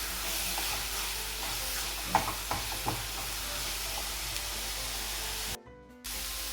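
Grated carrot frying in a pan for carrot halwa while being stirred constantly, a low steady sizzle with a few soft spoon scrapes and taps, then a brief drop to near silence before the frying sound returns.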